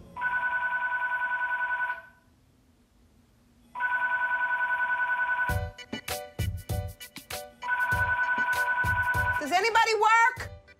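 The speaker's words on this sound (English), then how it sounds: "Nothing pisses me off more than the phone ringing more than three times." A telephone in an office rings in three long electronic trills separated by pauses, loud and close, with people talking between and over the later rings.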